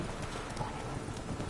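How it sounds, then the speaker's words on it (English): A horse gallops in the video game Witcher 3, its hooves drumming in a quick, continuous clip-clop rhythm over a steady background of game ambience. "Run, Roach."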